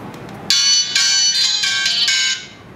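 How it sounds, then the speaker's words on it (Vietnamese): A Philips E130 phone plays its ringtone loudly through its loudspeaker, a bright electronic melody in repeated pulses that starts abruptly after a short quiet moment, then fades at the end. "Giờ sẽ vào trong cái phần tùy chọn để mở thử phần nhạc chuông."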